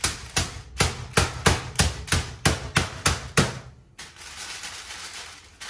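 A small hammer pounds chicken breasts flattened between sheets of greaseproof paper: about ten evenly spaced, dull thuds in a steady rhythm, close and distinct, followed by quieter handling noise.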